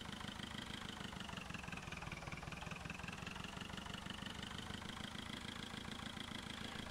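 A tractor engine idles steadily in Farming Simulator 2011, a continuous low, even rumble with a faint higher whine drifting slightly, loud and alone with no talk.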